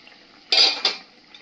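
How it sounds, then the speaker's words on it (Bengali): A metal cooking pot lid is lifted off with a short, bright clatter and a second quick clink, close and brief against a quiet kitchen background. "ঢাকনাটা খুলে দেখে নেব।"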